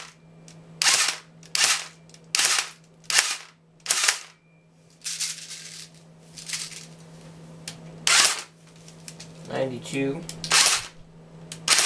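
Homemade chronograph setup with an airsoft gun firing 0.20 gram BBs: sharp single snapping shots at irregular intervals, about ten in all, close and loud, with a person speaking briefly between shots.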